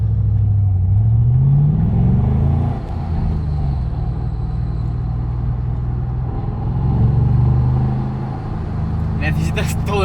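A rare Ford Mustang V8 Roush coasts on a country road without throttle, giving a deep, steady engine rumble that swells slightly and fades throughout, with someone talking over it.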